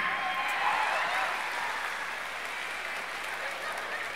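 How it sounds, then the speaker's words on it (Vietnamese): Warm applause from a live-show audience greets comedian Hồng Nga: a dense, sustained wash of clapping that stays loud and even, fading slightly toward the end. "Một tràng pháo tay nồng nhiệt cho Hot Girl Hồng Nga."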